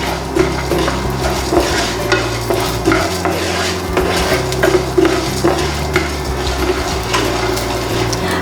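Urad dal, tamarind and garlic dry-roasting in a pan, a dense and fairly loud scraping rustle with a steady rhythm of stirring and light clatter throughout.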